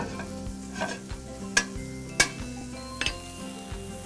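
Mushrooms and garlic warm in butter and olive oil in a pan, giving a steady low sizzle with a few sharp utensil clinks and scrapes against the pan, close and fairly quiet.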